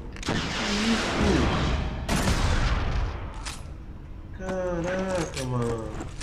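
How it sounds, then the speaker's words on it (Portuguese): Loud sniper rifle fire bursts from a PS2 video game, followed by a voice talking excitedly over the noise. "Perdi dois tiros de sniper"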